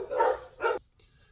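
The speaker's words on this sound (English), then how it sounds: "so the dogs are going nuts" Two loud, close dog barks in quick succession, followed by near silence, inside a home where a visitor has just arrived.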